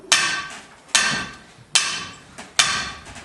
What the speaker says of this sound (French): C'est le bruit du marteau qui cloue notre cercueil.